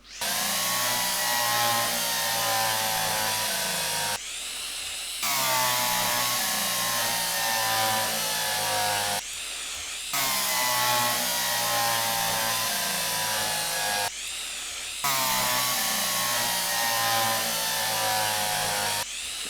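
Power drill in the video game Derail Valley whines loudly in four long, steady bursts separated by brief pauses, close and alone.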